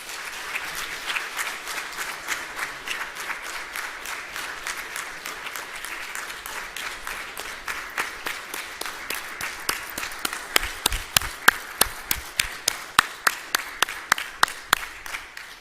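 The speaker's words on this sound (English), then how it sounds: "And if we could have another round of applause for them." Audience applause for conference speakers at a transportation event, steady dense clapping that thins toward the end into fewer, sharper, louder individual claps.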